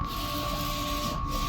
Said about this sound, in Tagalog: Yan na printer yung gamit natin.